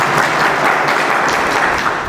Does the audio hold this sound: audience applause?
yes